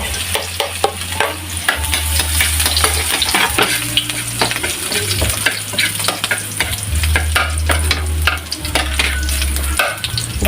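Onions for Pinoy-style spaghetti sauce fry in a pan, stirred continuously with a rapid series of scraping, clattering strokes over a loud, steady sizzle.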